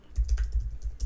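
Quick bursts of keystrokes on a computer keyboard as a search is entered, close and clear with an uneven rhythm and no speech.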